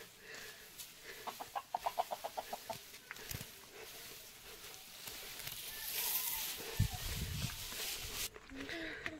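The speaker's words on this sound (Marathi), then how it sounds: "कोंबडे गावी फिरायला शिकलेत।" A rooster gives a quick run of clucks near the start, followed by rustling movement and faint talk in an outdoor village setting.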